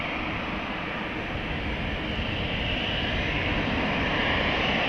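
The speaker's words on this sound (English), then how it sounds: "This is GetJet Airlines, all white, A320, destination Belgrade, flight 261" An all-white GetJet Airlines A320, 17 years old, departs Amsterdam Schiphol from runway 18 left for Belgrade, giving a steady, moderately distant jet roar that holds evenly without pause.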